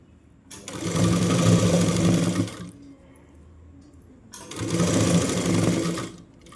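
A sewing machine stitches a sleeve onto a nightie in two loud, close bursts of rapid whirring, each about two seconds long, separated by a quiet pause.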